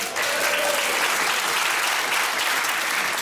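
A studio audience at a TV comedy panel show breaks into steady applause, dense and sustained clapping from many hands throughout, fairly close and loud.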